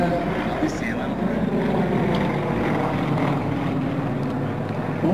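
Two Yak-50 propeller aircraft of the Aerostars team fly at the 2005 Flesland airshow, a steady broad engine drone heard at a distance beneath continuous commentator speech.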